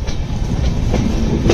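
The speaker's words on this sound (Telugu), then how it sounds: "ఇంకా ప్లాట్ఫామ్ నుంచి అయితే బయటికి రాలేదు మనం, ఐ మీన్ మన ట్రైన్ అండి." The LTT Superfast Express pulls out of a Mumbai platform, its wheels giving a close, steady clickety-clack over the rails with a continuous rolling rumble.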